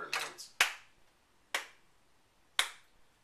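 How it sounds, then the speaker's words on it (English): Hand claps marking quarter notes in a rhythm-counting lesson, several sharp close claps spaced about a second apart in a quiet room, with no talking. "but I'll just clap quarter notes."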